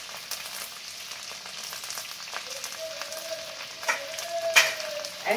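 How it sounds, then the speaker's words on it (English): Garlic, ginger and curry leaves sizzle in hot oil in a pan for a chicken curry, a steady crackling fry with a few sharper pops and a faint utensil clink near the end. "Fry all this for about 2 to 3 minutes and grind it along with the dry spices"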